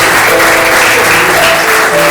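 A church congregation applauds the name of the Lord in one loud, dense wash of clapping that fills the room evenly and steadily, with no gaps and no one speaking.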